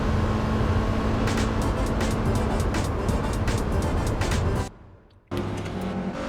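Race cars in Gran Turismo 4 roar loudly and continuously through an overtake, their engine noise steady before a brief cut to near silence and a return.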